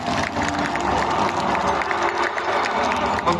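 A school audience claps loudly at an evening stage event, a dense and steady wash of applause with some crowd noise mixed in. It continues unbroken from start to finish with no clear talk over it.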